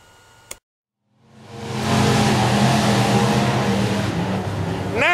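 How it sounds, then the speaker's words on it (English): A racing engine revs up after a short pause and then holds a loud, sustained, rough roar with slight pitch variation. No one talks over it. "I know there's a whole lot of engine noise behind us"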